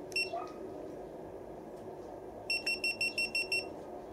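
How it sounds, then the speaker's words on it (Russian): A Git2 Pro action camera beeps as it powers up: one short chirp, then a rapid run of seven evenly spaced high electronic beeps, close and clear over a low room hum. "когда мы нажали и держим кнопку, она громко пищит. Это она включилась."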